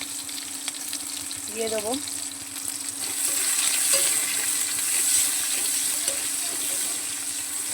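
Chopped onion and nigella seeds frying in a pan give a close, steady sizzle and hiss that grows louder partway through, while a voice speaks briefly over it.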